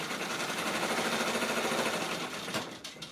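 An embroidery machine runs at full speed, around 1,000 stitches per minute, sewing an appliqué satin stitch on a shirt. The whirring stitching is steady and close, then eases off near the end.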